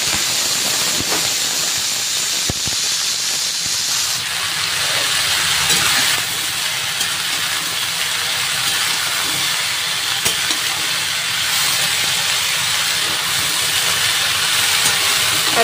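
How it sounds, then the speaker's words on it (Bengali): Sliced potatoes and mixed vegetables hit hot oil in a wok, setting off a loud, continuous hiss and sizzle that runs steadily with little change and no talking. "এই যে কড়াতে তেল গরম হয়ে গেছে,"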